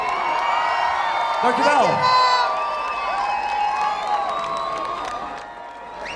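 Concert crowd at Oranje Zingt Zuid 2015 in Maastricht cheering, whooping and applauding for two female singers and a guitarist, loud and sustained with shouts rising over the clapping and a brief spoken thanks.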